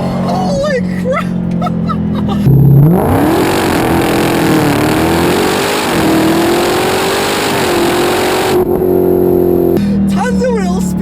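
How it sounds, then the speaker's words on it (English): A 2018 Dodge Challenger Demon in drag mode launches hard with wheel spin, its engine roaring loud and close for about six seconds as the pitch climbs. People talk just before and after the run. "Tons of wheel spin, and that front nose just lifts up in the drag mode."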